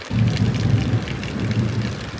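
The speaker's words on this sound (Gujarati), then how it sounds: "વરસાદ બહુ આવે છે" Heavy rain pours steadily with a dense, hissing wash, and a low rumbling hum runs beneath it throughout.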